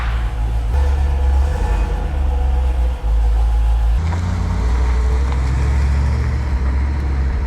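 A restored 1978 Range Rover Classic engine runs close by with a heavy low rumble that holds steady, briefly dips, then carries on idling loudly with a coarse texture.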